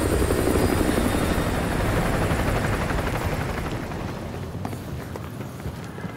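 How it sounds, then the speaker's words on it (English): Helicopter approaching in Call of Duty: Modern Warfare 2 Campaign Remastered, a loud continuous rotor roar and rumble that fills the scene and slowly eases in level. "Chopper inbound, keep low."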